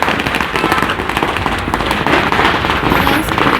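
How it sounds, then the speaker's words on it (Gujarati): Rapid firecrackers bursting in a dense crackling barrage at a street procession, loud and close, with a steady roar of a crowd beneath. "અહીંયા ફટાકડા ફોડાય છે"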